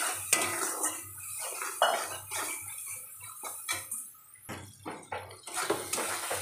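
Spice masala with turmeric, cumin powder and salt being sautéed in a pan for a bottle gourd and prawn dish, heard as repeated spatula scrapes and pan clinks over a soft sizzle.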